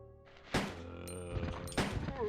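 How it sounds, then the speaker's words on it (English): Two heavy shotgun shots in the PS1 video game Resident Evil 2, each a muffled booming thump about a second apart, set over low tonal game music and sound effects. "the shotgun did good damage"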